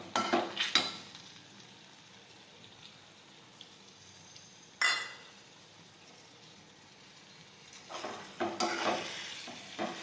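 Buttermilk poured into okra curry cooking in a pan, with a few sharp sizzles and stirring scrapes against a quiet background, close by and without speech.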